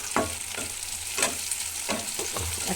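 Ginger and garlic fry in hot oil in a pan, with a steady crackling sizzle. Repeated scraping bursts come from stirring while the chilli chicken cooks.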